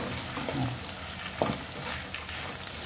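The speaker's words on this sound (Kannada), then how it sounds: "ಚೆನ್ನಾಗಿ ಫ್ರೈ ಮಾಡ್ಕೋಬೇಕು" Garlic fries in a pan until crisp for masala puffed rice, giving a soft, even sizzle with a few sharp stirring clicks.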